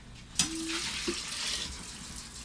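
About a quart of water pours into a cooking pan for an Austrian dish, a soft, steady splashing that follows a brief clink at the start and stays fairly faint.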